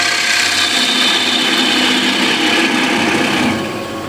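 A wood lathe spins a big wooden bowl as a spindle gouge cuts it, giving a steady loud whirring drone that eases off near the end.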